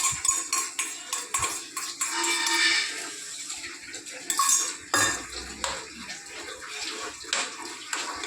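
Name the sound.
washing a bowl with water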